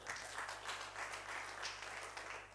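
Steady applause from a church congregation giving praise to God, dense clapping that swells in gentle waves, heard fairly quietly and on its own.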